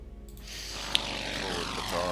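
A fighter plane from the WW2 strategy game Order of Battle drones steadily with a propeller-engine roar, rising slightly as it passes, with a short sharp click partway through.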